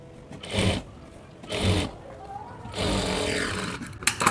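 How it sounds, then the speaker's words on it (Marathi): A sewing machine stitches katori blouse pieces in three short bursts of motor whirring, close and separated by brief pauses, with a final clatter at the end. "हे बघा एवढ्या अंतरावर मी शिलाई मारली."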